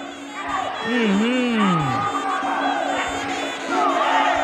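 A loud crowd cheers and yells at a live kickboxing and MMA fight in Patong, a sustained roar with rising whoops, while an announcer talks over it.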